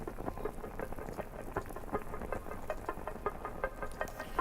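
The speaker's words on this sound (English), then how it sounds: "So this is the sound of like bubbling." A bubbling sound effect inside an electronic music track pops and gurgles in a steady, soft, irregular patter of small bubbles over a low background bed, with no talking.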